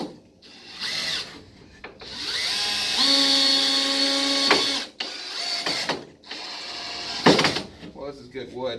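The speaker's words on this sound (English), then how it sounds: "So if I just drill into wood, a piece of wood, without screwing the hole first" Power drill boring into a piece of wood with a longer bit and no pilot hole, steady rising whine lasting a few seconds between shorter bursts, loud and close, with someone talking in between.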